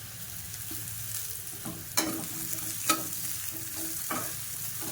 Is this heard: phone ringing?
no